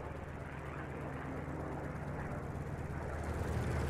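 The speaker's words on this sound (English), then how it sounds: "Position the throttle lever at full forward position." A fighter plane's engine roars steadily at full throttle for takeoff in the video game Birds of Steel, a dense, even drone growing slightly louder toward the end.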